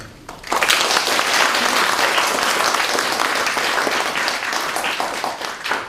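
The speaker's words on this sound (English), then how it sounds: "I'd welcome you to extend another round of applause to Professor Chubb." An audience at a public university lecture by Professor Ian Chubb breaks into a round of applause after half a second of quiet, then keeps up steady, full clapping to the end.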